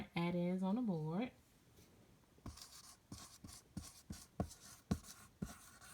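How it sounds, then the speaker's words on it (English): A marker or chalk writes a word on a classroom board in a few short scratchy strokes with gaps between them, heard close after a brief spoken phrase. "So I'm going to write add-ins on the board."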